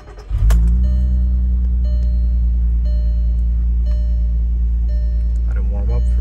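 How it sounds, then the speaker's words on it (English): A 2008 VW R32 cranks briefly, catches with a sharp burst, then settles into a smooth, steady idle heard up close, with some talking over it. "Go ahead and start up the car."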